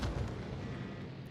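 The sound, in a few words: torpedo hits on enemy ship in World of Warships video game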